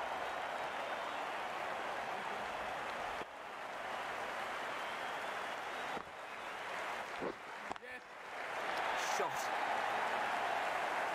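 Cricket crowd at a NACO Spring 2020 match, Grand Junction Dragons versus Brooklyn Beats, applauding and cheering in a steady, loud, broadband roar that carries throughout, with brief dips and swells.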